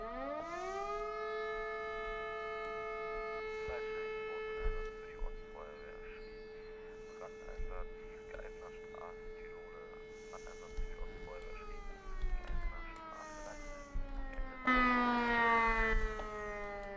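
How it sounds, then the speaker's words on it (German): A fire brigade siren in a fire-service game mod rises and holds a long steady wail, then winds down, with brief bits of talk and noise beneath it. "Da würde ich gerne mal die Feuerwehr Schrieds mit Sirene alarmieren."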